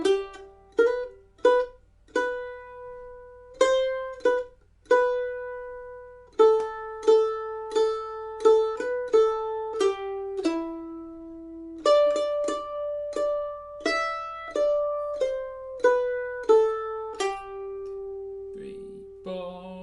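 Mandolin picking the Salty Dog Blues melody, with clean, bright plucked single notes and a few double stops in a steady rhythm, each note ringing briefly and then decaying, played alone.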